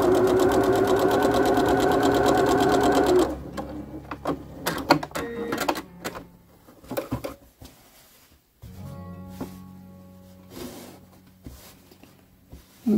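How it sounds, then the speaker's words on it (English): A sewing machine runs in a fast steady stitching rattle for a few seconds, then stops; clicks and handling noises follow before a brief low motor hum. "And sew it from point to point."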